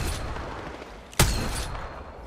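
One sharp, loud gunshot cracks out in Call of Duty Modern Warfare 2 over a low murmur of background game noise, and a faint ringing tail follows it.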